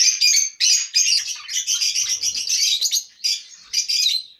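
Budgerigars in an aviary at feeding time chirp and chatter continuously, a dense flock of bright, close tweets and warbles with brief pauses.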